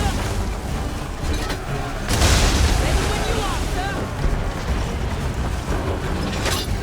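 Cannon fire and explosions boom through a naval battle in Assassin's Creed III at Chesapeake Bay, a heavy blast surging near the two-second mark over constant roaring wind and sea, with shouted voices in the mix.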